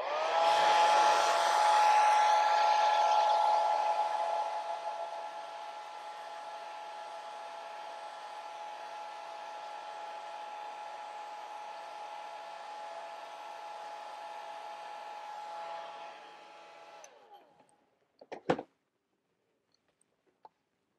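A hair dryer blows steadily on a wet watercolor painting of a dragonfly, loud at first and then a little softer for about seventeen seconds before switching off, followed by a few small clicks.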